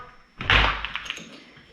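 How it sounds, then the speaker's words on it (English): A door being opened while a security lock is installed gives a solid thunk followed by a few light taps and rattles from the hardware, close by and fairly clear. "you're going to want to open the door"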